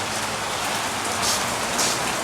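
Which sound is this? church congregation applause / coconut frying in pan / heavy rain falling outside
heavy rain falling outside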